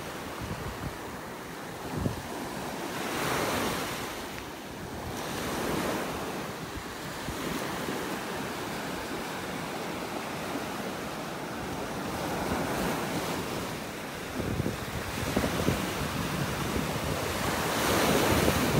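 Waves and wind on a beach in North Naples, Florida: continuous surf wash with breakers swelling every few seconds, wind buffeting the microphone, steady and fairly loud.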